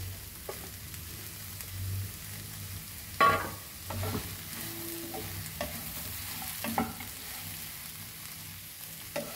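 Okra sautéing in a pan without oil for a Goan kokum amsol, a faint steady sizzle with occasional sharper stirring scrapes and clatters, heard alone.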